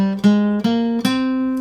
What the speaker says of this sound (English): Aeolian, or natural minor, has the flatted 6th, here, in addition to the flatted 3rd and 7th.